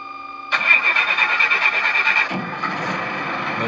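A sound module in an RC boat, switched on with a Futaba radio, plays an engine-start effect through a small speaker: a sudden burst of cranking that catches and settles into a steady idle hum.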